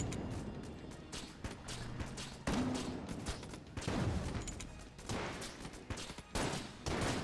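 Rapid bursts of video game gunfire from the bullet-hell shooter Enter the Gungeon, dense volleys of shots with brief gaps, mixed with other game effects and no speech.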